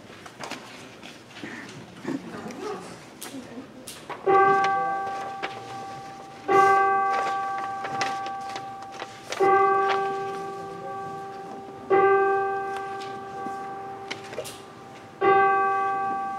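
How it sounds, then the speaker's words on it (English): Church chime bells ring before Sunday worship, a series of slow, resonant struck tones spaced a few seconds apart, each decaying over a steady quiet room with faint background rustle. "Oh, did we get to have the chimes?"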